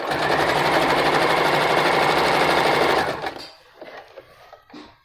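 Sewing machine hums and chatters at a fast, steady pace while stitching a fabric strip for a homemade face mask, loud and close for about three seconds, then stops, leaving soft fabric handling noises.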